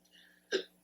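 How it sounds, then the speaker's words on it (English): A person gives a single hiccup, short and sudden, against a faint steady hum, with no talk around it. "fucking hiccups"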